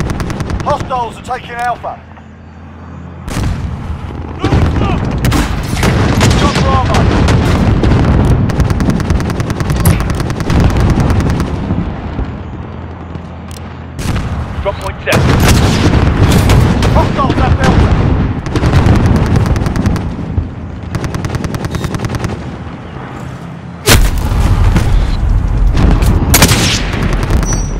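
Intense gunfire from a friendly gunship in the first-person shooter Call of Duty: Modern Warfare, heavy bursts and booming impacts nearly continuous across the clip, with a radio voice speaking over the barrage.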